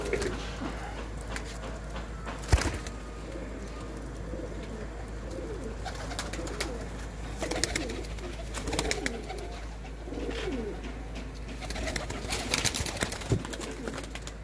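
Pigeons at a flying-pigeon loft coo softly, low murmuring calls under a steady hum of outdoor noise, with a sudden sharp knock near the start and a few clicks later; no talking.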